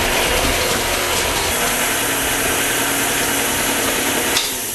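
An electric mixer fitted with a grinder head works through carrot cake ingredients, a continuous mechanical churning and rattling that runs loud and steady before tailing off at the end.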